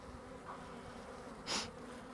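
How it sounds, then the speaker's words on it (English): A faint, steady honeybee buzz hums in the background at an open hive as frames are handled, with one brief louder burst as a bee passes close by. "I'm going to shake these bees"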